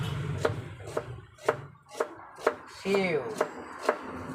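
Onion being chopped with a knife on a board, about nine evenly spaced sharp chops close up, with a short spoken interjection midway.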